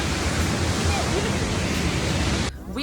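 A waterfall at the end of a lush canyon on the Turkish coast, a loud, steady rush of falling water that cuts off abruptly near the end.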